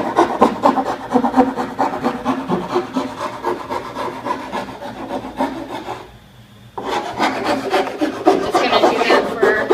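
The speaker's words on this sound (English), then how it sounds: "gonna use a wood file to file down all the edges, like this." A wood file rasps back and forth along the edges of a wooden board in fast, rhythmic scraping strokes. The strokes pause briefly partway through, then resume close and loud.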